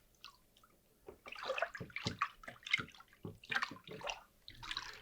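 Water running and splashing while wool shampoo is diluted for washing knitwear, heard as a series of close, irregular pours and drips at a fairly quiet level.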